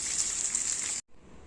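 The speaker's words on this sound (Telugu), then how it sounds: "4 కప్పులు నీళ్లు వేసి మరలనివ్వాలి." Water gushes steadily into a pan while upma is being cooked, a loud continuous pour lasting about a second before cutting off abruptly, followed by a faint residual trickle.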